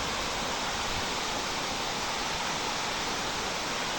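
Water at Sirispal Dam in Keonjhar, Odisha, rushes in a dense, steady, unbroken roar, loud and constant throughout, with no voices.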